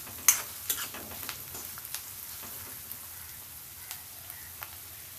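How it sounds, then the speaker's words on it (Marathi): Chopped onion frying in a pan until reddish, heard as a soft, low sizzle with scattered light scraping taps, fairly quiet and close with no voices. "घालूया आपण हा कांदा आणि हा कांदा लालसर होईपर्यंत भाजून घेऊया"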